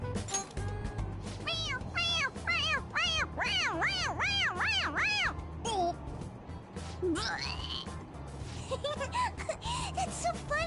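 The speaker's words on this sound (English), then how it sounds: "It meows when you press on its head." A cat meows repeatedly in Persona 5 Royal, a run of rising-falling cries in quick succession, fairly loud and close, over game music with a voice or two nearby.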